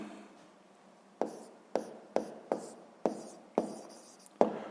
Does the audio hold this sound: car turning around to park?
no